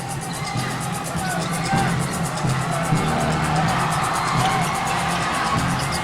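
Basketball arena crowd of Ginebra and Purefoods fans on Christmas Day in Manila, a steady dense roar of chatter and cheering that holds loud throughout with small swells.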